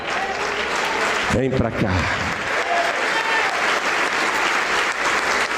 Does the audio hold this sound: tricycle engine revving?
no